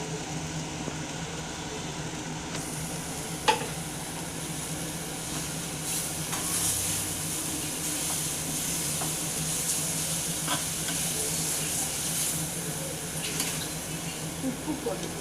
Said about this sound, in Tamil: போட்டு வேக வச்ச வாழைப்பூ போட்டு வதக்கணும். கடலைப்பருப்பு அதை போட்டு அதோட சேர்ந்து வதக்கணும்.